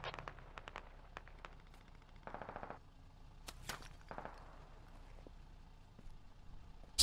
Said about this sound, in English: we do have some shots going up into the minarets.